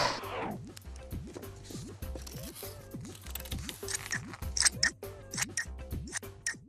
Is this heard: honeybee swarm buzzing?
no